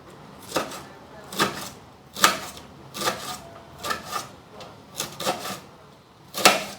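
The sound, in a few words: chopping onion and cabbage with a knife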